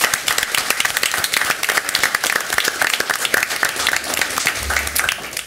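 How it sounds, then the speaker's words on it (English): Sustained crowd applause at a Berkeley County School District board meeting honoring parents, dense steady clapping throughout with brief low rumble near the end. "please give your parents another round of applause"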